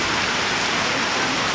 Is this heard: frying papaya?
no